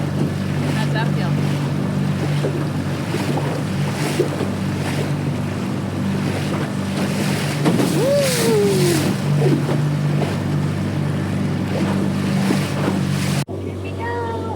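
A motorboat engine on Lake Superior drones steadily at close range with water rushing and wind buffeting, briefly joined by a whistle-like rising tone, then cutting off abruptly.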